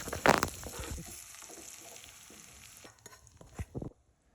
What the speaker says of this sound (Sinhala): වෙනම තාච්චියක් අරගෙන ලුණු ටිකකුයි සුදු ලුණු කරපිංචා ඒ ටික ටෙම්පරාදුවක් හදාගන්න